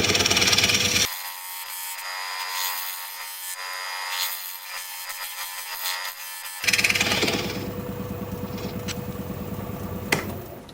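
A scraper is held against a maple bowl spinning on a wood lathe, giving a loud, steady, harsh scraping close by. Its character shifts partway through, and no one talks.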